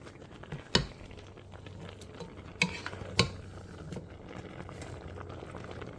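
Softened cooking apples stirred in a pot for applesauce, a soft wet churning with a few sharp clanks of the spoon against the pot's side, close and alone with no talk.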